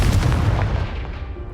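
A Confringo blasting spell explodes in the Hogwarts Legacy video game, a single loud, deep boom with a rumbling low-end tail that fades over about a second and a half.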